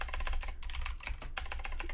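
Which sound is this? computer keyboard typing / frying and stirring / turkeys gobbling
computer keyboard typing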